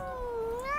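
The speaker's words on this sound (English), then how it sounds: "Silly cat." A cat in an animated cartoon gives a single drawn-out meow, clear and close, its pitch dipping and then rising at the end.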